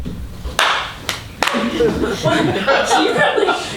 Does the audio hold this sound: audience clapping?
yes